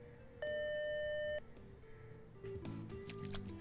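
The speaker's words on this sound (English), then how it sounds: "leave your name and number at the sound of the beep" An answering machine in the video game Ty the Tasmanian Tiger gives one steady electronic beep lasting about a second, clear and alone, followed by quiet background game ambience.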